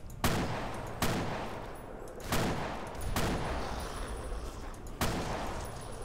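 Sniper rifle gunfire in Fallout: Tale of Two Wastelands, five loud, sharp shots spaced about a second apart, each ringing out with a long decaying tail, no voices over them.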